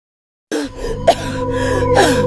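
A single close, raspy cough burst, followed by a couple of rougher throaty coughs trailing off.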